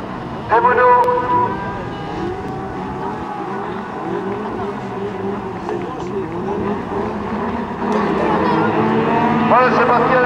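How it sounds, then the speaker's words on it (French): Single-seater race cars roar off the start of a race heat on a circuit at Ainay-le-Château, engines rising loud and close in a dense overlapping snarl, with commentary talking over them throughout. "c'est parti avec le super départ de David Guillaume avec Thierry Bozek"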